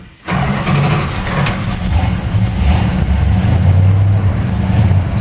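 A 1928 Dodge rat rod engine cranks and catches after a brief pause, then settles into a loud, steady, rumbling idle with slight revving close by, with no voices.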